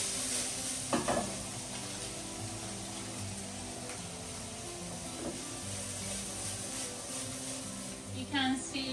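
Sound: meat-free mince being stirred and frying in a pan

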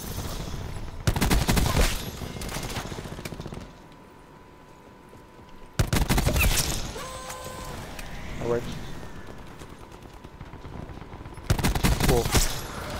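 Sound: gunfire in video game Call of Duty Black Ops 4

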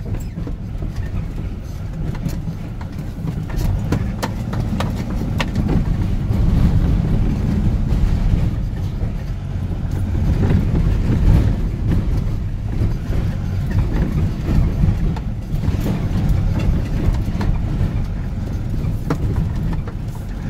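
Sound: rented trencher digging a trench for fiber optic cable

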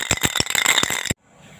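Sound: shaking a spray paint can

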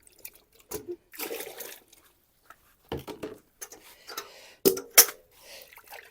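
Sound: tomato seed pulp poured into a container of clean water

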